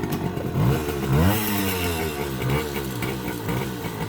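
A vintage Honda MR50 motorcycle sputters to life after a kick-start, then settles into a close, uneven small-engine idle with slight pitch swells and faint clatter.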